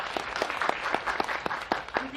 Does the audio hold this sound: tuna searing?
no